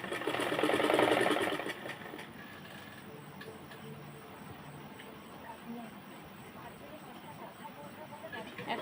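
A sewing machine stitches a kali seam on a salwar, a loud rapid mechanical whirr in a burst of about a second and a half near the start, then quieter handling sounds and faint background noise.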